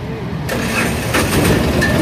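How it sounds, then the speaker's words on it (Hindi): A Piaggio Ape three-wheeler engine cranks with a key and catches, then settles into a rough, steady idle close by. "ये बेहतरीन स्टार्ट हो चुकी है गाड़ी"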